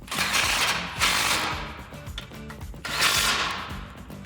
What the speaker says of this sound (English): 17mm socket, tighten it down